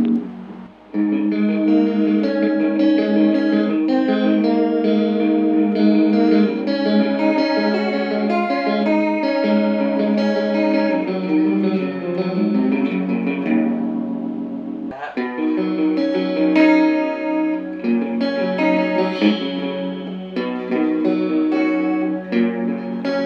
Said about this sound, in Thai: เป็นคอรัสที่ชัดเจนดีนะครับ